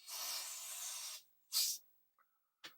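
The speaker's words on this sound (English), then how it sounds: "I'm going to spray some in the cartridge port." Electronic cleaner spray hisses into the cartridge port of a Commodore 64 in one long burst, then two short puffs, close and loud against a quiet background.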